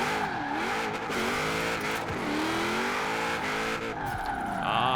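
Holden Commodore Group A with a fully built LS3 V8 drifting in Forza Horizon 4, its engine note rising and falling steadily through the slide with continuous loud revving and tire squeal.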